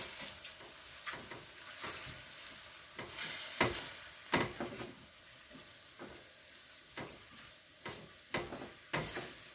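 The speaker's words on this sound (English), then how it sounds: "So I'm gonna stir all of this." Beef with vegetables and ground hot pepper is stirred in a pan, a soft frying sizzle broken by repeated sharp spoon scrapes and clatters at irregular intervals, with no talk.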